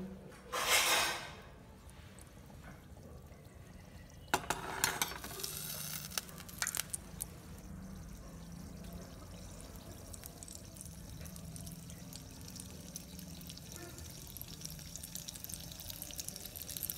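Hot oil is ladled over poppy-seed-coated anarsa sweets frying in a pan, giving a couple of loud splashy bursts of sizzle and clinks early on, then a low, steady frying bubble that continues for a long stretch.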